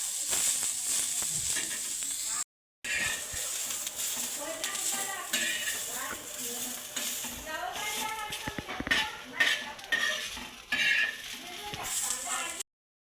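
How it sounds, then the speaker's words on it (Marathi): Onion sizzles as it roasts in a little oil in a pan with chilli and garlic, a steady close frying hiss running throughout with small stirring clatters. "कांदा भाजून घेते थोडस तेल टाकते"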